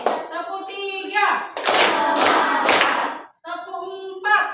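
Children clap in unison during a classroom ice-breaking clapping game led by a teacher. Loud bursts of clapping fill the middle, framed by chanted counting voices before and after.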